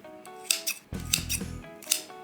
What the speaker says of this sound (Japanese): そうしたらハサミで結構深めにカットします。